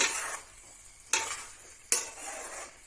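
Cauliflower Manchurian stirred in a pan over a low flame, three hissy scraping strokes of a utensil, each starting sharply and fading, no voices.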